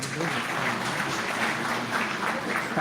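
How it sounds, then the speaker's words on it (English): Audience applause at a university convocation at Al-Karim University, Katihar, a brief, moderately faint run of steady clapping across a large hall. "Please give a big applause to this success"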